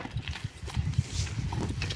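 Rhythmic hoof clip-clop of a stallion moving at a steady walk, moderately close, over a low rumbling background with no talk.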